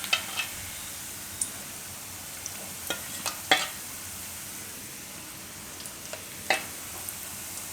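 Spinach pakoda batter frying in hot oil in a home kitchen, a steady soft sizzle with scattered sharp pops and crackles throughout, close by and without talk.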